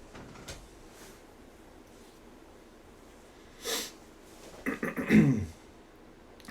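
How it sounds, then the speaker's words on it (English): A person clears their throat during a quiet indoor ghost-detector session, giving a short rough burst near the middle of the clip followed by a louder, more drawn-out rasp, with near-silence around it. "That was me clearing my throat if you heard that."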